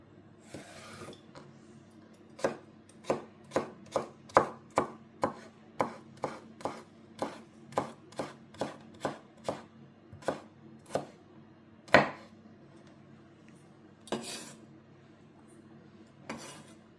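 Steady knife chops on a cutting board as carrots are cut up for a minestrone with meatballs, a regular series of about twenty crisp close strikes, then a louder knock and a few scattered cuts.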